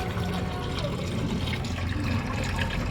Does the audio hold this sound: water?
yes